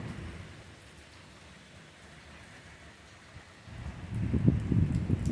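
A summer severe thunderstorm in Claremont, New Hampshire, brings steady rain hissing on surfaces, with a deep rumble of thunder rolling in and growing louder toward the end.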